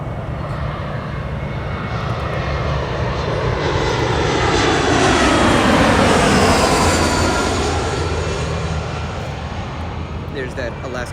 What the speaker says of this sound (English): There's that Alaska E175 coming over as our thank you livery turns to take off on 24 left on its way to Detroit.